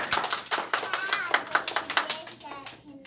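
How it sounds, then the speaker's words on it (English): An audience claps for young children at a pre-K graduation ceremony, steady close hand claps ringing through a room with children's voices chattering underneath. "Give them a round of applause."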